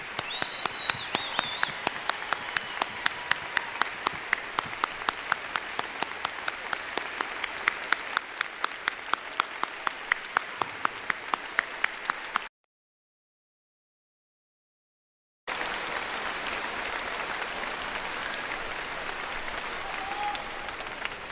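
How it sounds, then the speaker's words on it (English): Graduation audience applause for the Rocky Mountain High School class of 2013, a broad sustained wash of clapping from a large crowd with steady rhythmic taps up front, broken by a brief silence before resuming. "Let's give Mr. Lopez a round of applause"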